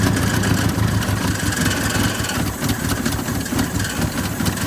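A Toyota Wolverine engine idling steadily and loudly nearby, a little rough and running rich, with a dense low rumble throughout and no talking.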